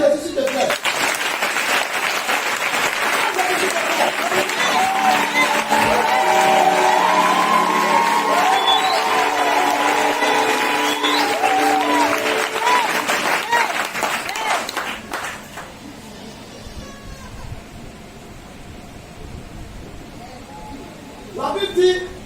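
A church congregation at a Christmas Eve vigil applauds and cheers for Jesus, sustained loud clapping with whoops and shouts filling the room, then fading into quieter murmurs.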